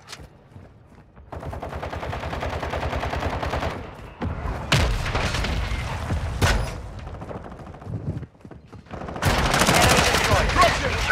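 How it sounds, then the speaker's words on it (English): Mortar strike explosions in Warzone 2.0 on Ashika Island, loud heavy blasts and rumbling bursts that come in clusters and stop between them, with rapid gunfire-like cracks and a dense final barrage near the end. "Hostile mortar strike incoming."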